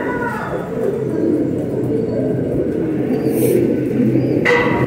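Rampuri pigeons cooing steadily at close range, a dense low murmuring coo from several birds running throughout, with a brief higher chirp near the end.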